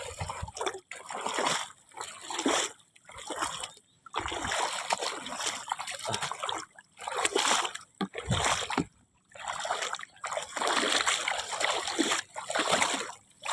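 Large surges of seawater splash and slosh close by near the shore, coming in repeated rushing bursts with brief lulls between them.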